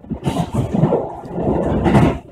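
A train running along the Akō Line in Japan, heard from on board as a rumbling, rattling rush that swells and fades, loud and close, with no talk.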